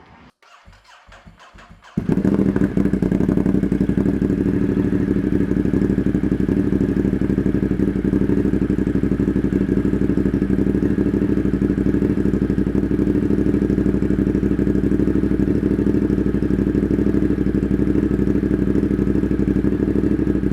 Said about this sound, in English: that is the sound of the Ducati monster with the Austin Racing slip-on